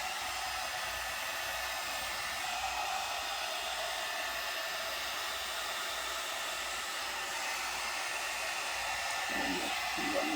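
A hot air brush blows on hair with a constant motor whir and airy hiss that stays close and steady from start to finish, no voices.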